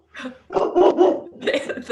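A dog barks in a quick series of harsh, close, fairly loud yelps and woofs, with a short pause partway through before a final burst.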